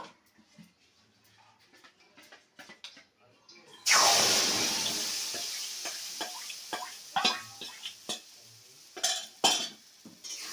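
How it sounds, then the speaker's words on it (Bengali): A sudden burst of sizzling starts partway through, followed by irregular scraping and knocking of a utensil stirring rice flour into a dough in a wok, close by. "এবার গোলাটাকে নেড়ে নেড়ে একটা ডো বানাতে হবে"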